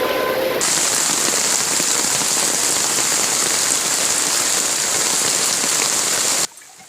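Heavy rain pours down in a dense, constant roar of drops hitting surfaces, loud and unbroken before cutting off abruptly near the end.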